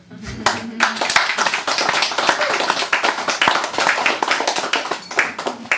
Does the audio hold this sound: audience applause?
yes